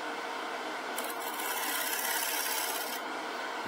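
A gouge's wing scrapes a spinning birch bowl on a woodturning lathe, giving a steady dry rasping hiss that grows brighter and harsher in the middle before easing off.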